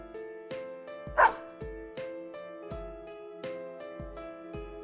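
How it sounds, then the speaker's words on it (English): In the fighting game Persona 4 Arena, a white dog gives one short, sharp bark over looping, rhythmic game music. "the name of this animal is a dog"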